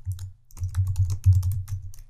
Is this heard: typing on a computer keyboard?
yes